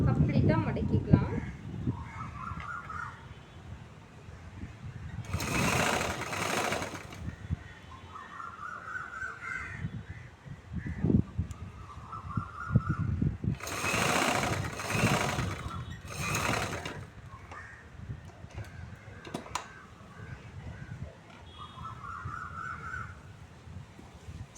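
A sewing machine runs in two short bursts of steady mechanical whirring while a chudithar is being stitched. Someone talks through most of the stretch, and faint crow caws carry from outside.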